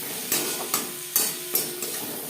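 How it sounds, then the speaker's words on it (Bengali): Flat beans stirred and fried in a pan with salt, turmeric and spices: a steady sizzle with about five sharp, evenly spaced spatula strokes, close and clear, with no talking. "লবণ হলুদ পেঁয়াজ টমেটো মশলার সাথে বেশ ভালো করে মিক্সড করে দেব।"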